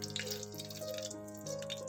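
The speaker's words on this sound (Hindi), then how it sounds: "अभी इनको थोड़ी देर तड़कने देंगे ताकि इनका फ्लेवर अच्छे से एक्टिव हो" Mustard seeds crackle and pop in hot oil for a Pakistani-style vegetable pickle, giving a soft, dense sizzle with scattered faint pops and no talking.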